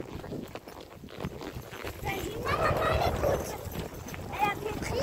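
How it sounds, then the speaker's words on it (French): Horses trotting on an outdoor ride with beginner riders, their hooves clip-clopping in a quick rhythm under a woman's spoken instructions. "Allez, attention, on va repartir un petit peu au trot."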